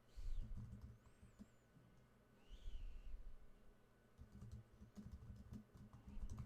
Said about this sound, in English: Just typing in chat there a little bit.